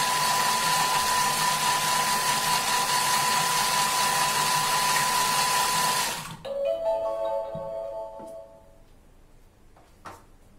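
A Thermomix food processor blends a white bean and tomato sauce mixture with a loud, steady whirring hum for about six seconds, then abruptly stops, leaving faint clinks and rattles.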